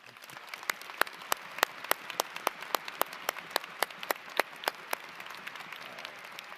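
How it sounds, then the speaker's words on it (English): Audience at a psychology commencement ceremony applauding graduating students: a soft, steady patter of many hands with a few sharp, distinct claps standing out in a regular rhythm, moderately distant. "please join me in congratulating these students with a round of applause"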